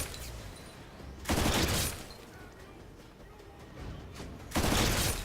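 Bursts of rapid gunfire from the video game Lost Planet 2 erupt twice, loud and dense, over a constant background of battle noise and rumble, with no speech.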